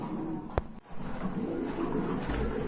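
A pair of Indian Mumbai pigeons coo softly and continuously at close range, with a sharp click near the start and a brief dip before the low murmuring resumes.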